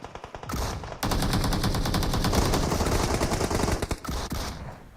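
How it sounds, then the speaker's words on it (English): Sustained automatic AK rifle fire in a PUBG Mobile scrim match, dense rapid bursts that run loud and continuous for several seconds, with brief gaps at the start and near the end. "Jaws with the AK in hand."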